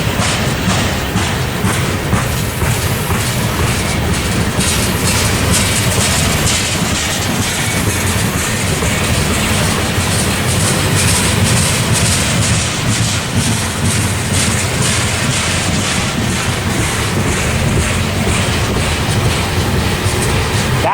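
Long freight train rolling past at Tehachapi, a loud continuous rumble with rhythmic clickety-clack of wheels over rail joints, close and sustained throughout with no voices.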